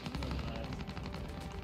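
Dense gunfire from a video game heard through a JBL Quantum ONE gaming headset, a steady rattle of rapid shots at moderate loudness with no pauses.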